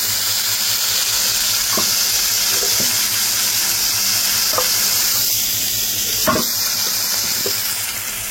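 Water streams steadily into a pot with a constant hissing rush, a few faint clinks and taps of utensils scattered throughout.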